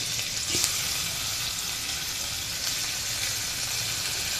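Dried fish (shutki) frying in oil in a pan, a dense, even hiss that holds steady from start to finish, with one brief knock near the start and no one talking.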